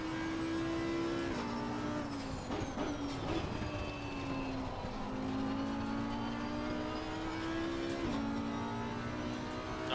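A race car engine howls in a racing game, loud and continuous for the whole stretch, its pitch rising under acceleration and dropping sharply at gear shifts and braking points.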